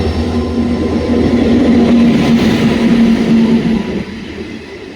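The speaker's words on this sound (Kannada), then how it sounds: "ಚಿಕ್ಕಮಂಗ್ಳೂರು ಯಶವಂತಪುರ ಎಕ್ಸ್ಪ್ರೆಸ್." The Chikkamagaluru–Yesvantpur Express passes close by, a loud steady rumble of wheels on rails with a sustained tonal hum that eases off near the end.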